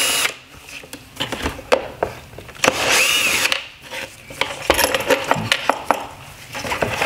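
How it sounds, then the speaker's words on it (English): Phillips head screws being loosened from a 2014-2016 Nissan Rogue OEM full LED headlight housing, heard as a loud, close power-driver whir in repeated bursts with clicking and rattling between runs, no talking. "So we just have two Phillips head screws remaining. So we will go ahead and loosen these."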